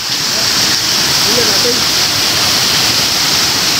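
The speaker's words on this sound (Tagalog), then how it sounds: "Ito pala yung bukal na sinasabi." Water pours and rushes at a natural spring near a resort in Calauan, Laguna, a loud steady splashing roar heard up close, with a voice faintly audible underneath.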